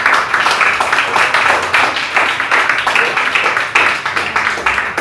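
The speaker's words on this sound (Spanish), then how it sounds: "¿Quién le da un aplauso al Señor?" Congregation applauding in a church service: dense, steady clapping from many hands, loud and close, filling the space with rapid overlapping claps throughout.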